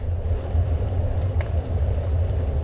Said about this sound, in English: That wind's a bit chilly now.